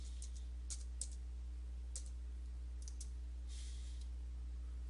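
A code is typed on a computer keyboard, a handful of light, quick key clicks in small clusters over a steady low hum, faint and close, with no talking.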